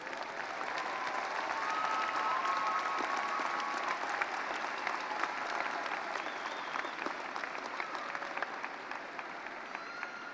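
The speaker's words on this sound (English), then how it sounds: "give a big round of applause for your parents and families" Sustained applause from a large audience, steady dense clapping that carries on throughout at an even level.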